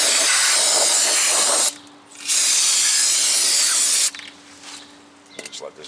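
Brake rotor from a 2015 Honda Civic being rinsed with a spray cleaner: two loud, close bursts of hissing spray, the first about two seconds and the second about two seconds, followed by faint quieter handling noises.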